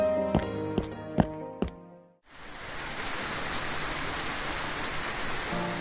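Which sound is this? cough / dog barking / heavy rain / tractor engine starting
heavy rain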